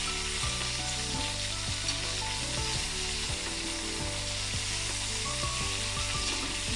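Long pieces of narba fish, a pomfret-like fish, frying in oil after being flipped. A steady close sizzle runs throughout, with occasional low clicks and scrapes from the pan.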